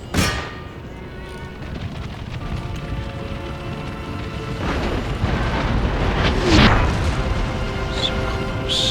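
Musket volleys and artillery fire in the Empire Total War strategy game keep rumbling without a break, with dull booms and scattered crackling shots over a dense battle din and no voices.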